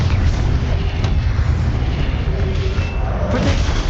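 A Confringo fire-blast spell erupts in Hogwarts Legacy, a dense rumbling explosion with deep booming bass that stays loud and continuous for several seconds.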